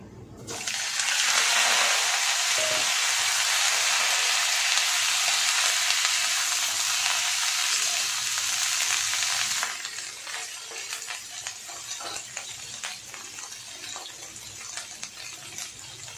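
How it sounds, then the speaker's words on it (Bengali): Cauliflower florets frying in hot oil in a kadai give off a loud, steady sizzle that holds for about nine seconds, then drops to a softer crackle with occasional stirring clinks. "দেখো তেলটাও আমার গরম হয়ে গেছে, এবার আমি কপিগুলো ভেজে নিচ্ছি।"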